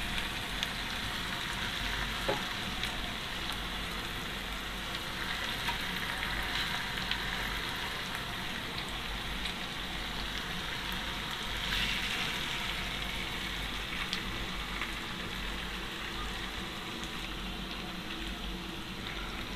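Chicken pieces fry in spiced oil in a pan, giving a steady, moderate sizzle with faint crackles throughout and no talking.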